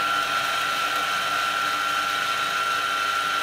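Eureka Mignon XL coffee grinder with silent technology grinding a dose of coffee beans, a steady close whirring hum that holds evenly throughout, heard alone.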